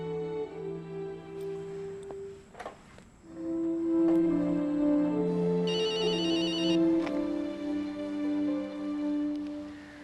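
A telephone rings on an outgoing call, playing a bright melodic ringtone tune with shifting notes that carries on through the whole stretch, with no one speaking.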